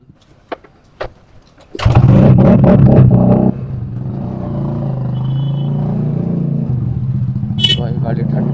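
A motorcycle engine is started after a few light clicks and taps, catching with a loud burst and then settling into a steady, throbbing idle that runs close and continuous to the end.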